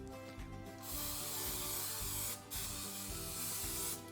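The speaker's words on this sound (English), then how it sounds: "I'm going to grease them with non-stick cooking spray" Two long bursts of non-stick cooking spray hiss onto round cake tins, close and steady, separated by a brief pause, with light handling noise at the start.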